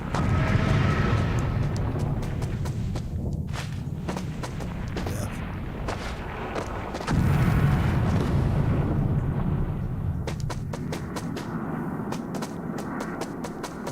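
Bombs explode over a town in a video game: a dense, continuous roar of heavy blasts with sharp crackling bursts layered on top, swelling again partway through, loud and sustained throughout.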